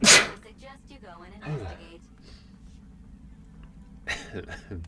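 A single short sneeze bursts out right at the start, loud and close, followed by people speaking.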